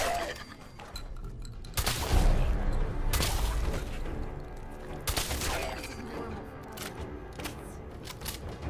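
Shotgun blasts in Fallout 4 survival mode, fired at ghouls: a few loud, sharp booms spaced a second or two apart, each with a ringing tail over ongoing game ambience.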